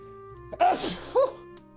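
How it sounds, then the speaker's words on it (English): A single sneeze, quiet and close, with a sharp inhale followed by a burst and a small trailing sound. "I'm sneezing."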